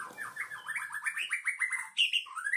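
An albino long-tailed shrike sings a rapid series of sharp, descending chirps and warbling notes, loud and close, with no voices present.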